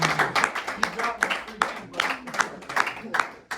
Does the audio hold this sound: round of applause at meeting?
yes